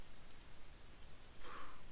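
A computer mouse gives faint, sharp clicks, a few spaced single or double taps, as points are added to draw a line on a map of alpine glaciers. The room is quiet apart from the clicks.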